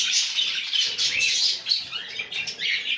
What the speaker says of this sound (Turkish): Hepsi çıldırmış durumda. Cıvıl cıvıllar.